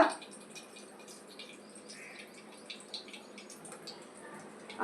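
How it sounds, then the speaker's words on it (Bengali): Fortune kachi ghani mustard oil trickles into a pan, a faint, steady liquid pour with a few soft drips in a quiet kitchen. "তো এইবারে আমি ফরচুন কারচিঘানি সর্ষের তেল দিয়ে দিচ্ছি"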